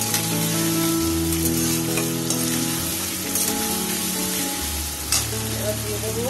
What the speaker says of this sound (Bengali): এবার এটাকে কষে এতে বেশি মশলা লাগে না